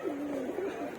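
Pigeons at a loft give a continuous low warbling coo, several males crowding after a female, close and steady for the whole second.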